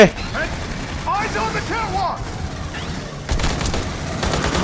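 Bursts of gunfire crackle in Aliens Colonial Marines, loud and ragged and mixed with clanking mechanisms, while someone talks excitedly over the shooting.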